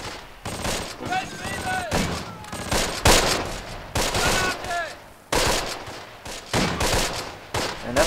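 Gunfire from the WWII tactical game Close Combat: Last Stand Arnhem: loud, repeated bursts of rifle and machine-gun fire crack in close succession, with shouted voices breaking through between volleys.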